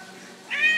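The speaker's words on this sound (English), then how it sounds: "her evil kitty cat" A cat gives a single short meow, rising out of a quiet, faintly noisy background near the end.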